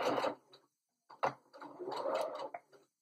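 A home sewing machine runs a short backstitch on a cloth pad wrapper, giving brief whirring bursts close by that are broken by pauses, with the longest run near the end.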